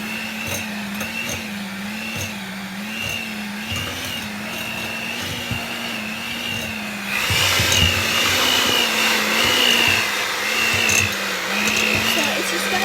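An electric mixer whirs steadily through thick cookie dough in a home kitchen, its motor hum wavering as the load changes and growing louder and harsher partway through.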